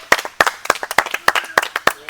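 A group of people clap their hands in a quick, steady rhythm to cheer a child climbing a palm tree outdoors; about eight crisp, loud claps come in a row with fainter claps between them.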